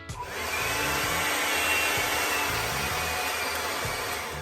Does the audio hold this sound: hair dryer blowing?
yes